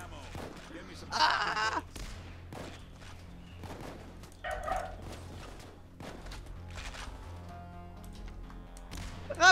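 Gunfire crackles in Payday 2 during a friendly-fire PvP match, with a couple of short bursts among footsteps and other game noise, while players talk excitedly over it.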